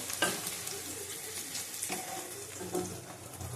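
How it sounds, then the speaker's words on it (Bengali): Onion, capsicum and chili fry together in a pan with a continuous close sizzle, broken by occasional scraping stirs against the pan. "পেঁয়াজ, ক্যাপসিকাম, লঙ্কা একসাথে ভাজা হয়ে গেছে।"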